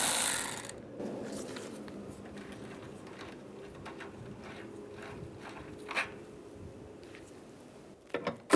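Ratchet with a 10mm socket taking the wiper transmission bolts off a 2007-2013 Chevy Silverado: quiet, close clicking pawl strokes over low shop noise, with a few sharper knocks toward the end.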